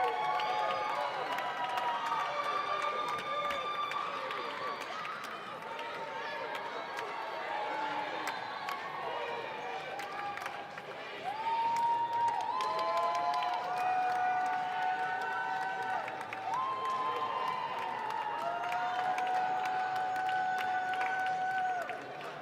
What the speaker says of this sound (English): Chartiers Valley fans cheering on their guys.